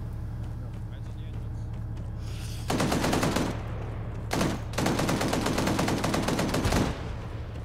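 Heavy automatic gunfire aimed at a team on an Israeli forces mission, long rapid bursts loud and close with a short gap between them, over a steady engine drone and radio chatter.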